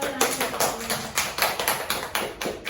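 A classroom group gives a short round of applause in a microteaching nutrition lesson, a quick run of light, fairly soft claps lasting under three seconds.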